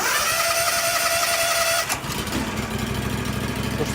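An STI 2818 LP machine's engine, choke pulled out, cranks with a rising whine and then catches, settling into a loud, steady running rumble close by.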